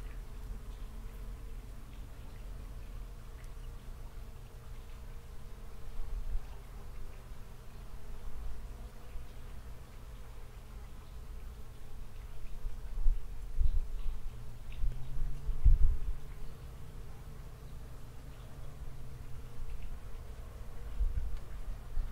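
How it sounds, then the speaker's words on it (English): Bees buzz among garden beds of tomatillo and green onions, a faint, steady drone that swells slightly later on, with no talking. "Bees are everywhere."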